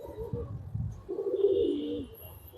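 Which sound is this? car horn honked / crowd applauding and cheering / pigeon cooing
pigeon cooing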